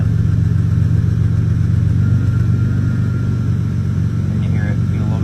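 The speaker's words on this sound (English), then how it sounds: "You can hear it. It's idling a little bit rough." A vehicle engine idles a little rough, a steady low rumble held close and loud throughout with slight unevenness, no voices over it.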